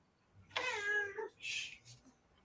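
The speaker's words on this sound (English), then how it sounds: "I hear a cat." A domestic cat meows indoors: one drawn-out meow, then a shorter higher call, both fairly quiet and close, with no talking.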